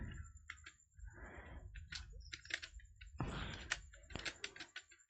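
Rapid, uneven clatter of keys on a computer keyboard as CSS code is typed, close and fairly quiet, with short bursts and brief pauses throughout.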